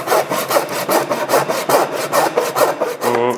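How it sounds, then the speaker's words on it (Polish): Hand saw cutting a wooden piece, guided straight for a flower stand build: loud, close rhythmic rasping strokes back and forth at a steady pace, with no talking. "I za pomocą piły naszego wyboru, co kto ma, wytniemy sobie pierwszy element."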